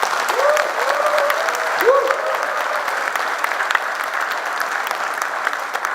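Warm applause from the audience at the founding general meeting of a Korean blockchain business association, a steady roll of many hands clapping for several seconds, with a voice speaking over it near the start.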